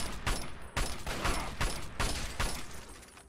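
Gunfire in the video game Fallout 3: a burst of about six or seven sharp, loud shots in a quick irregular rhythm, close and without talk.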